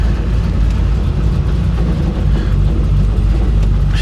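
A 1966 Chevy Impala with a three-speed automatic drives on a test run, its engine a loud, continuous low rumble that rises and settles slightly as it downshifts, heard from inside the car, no voices.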